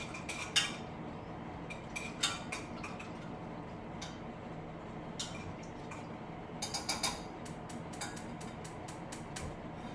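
A utensil stirs a sauce with powdered ginger in a pot, making light scraping and clicking taps that are quiet and close, with irregular bursts.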